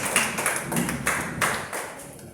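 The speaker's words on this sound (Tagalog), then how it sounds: "Bigyan muna natin malakas sa palakpak" A church congregation of the JMCIM in Apalit, Pampanga clapping during a worship service: a handful of spaced, echoing claps in a reverberant hall, fairly even in rhythm and fading toward the end.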